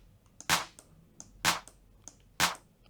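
A layered snare clap treated with Haas delay and a short, wet reverb, three sharp isolated hits spaced about a second apart, each with a faint flam just before it and a brief tail, dry and alone.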